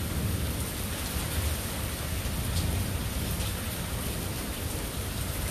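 Steady, dense rain pours during a thunderstorm in Austin, Texas, a continuous close hiss with low rumbling thunder rolling underneath throughout, with no talking.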